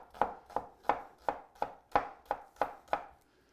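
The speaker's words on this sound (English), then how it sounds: "We have about a cup of chopped onion, which we'll just set aside for the moment." A knife chops an onion on a board in nine steady, evenly spaced strokes, close and crisp, with no talking.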